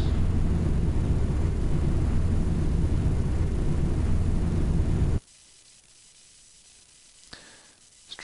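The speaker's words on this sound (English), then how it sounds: "I'm going to try and turn the sound of the jet aircraft down." A loud, steady jet engine roar from an A321 in Flight Simulator X fills the first five seconds, then cuts abruptly to near silence with a couple of faint clicks.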